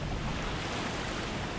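Continuous rushing water spray from a Hydra attacking in Dark Souls Remastered, a dense even wash like surf and wind that holds steady throughout with no talking.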